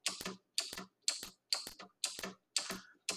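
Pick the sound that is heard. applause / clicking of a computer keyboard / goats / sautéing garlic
clicking of a computer keyboard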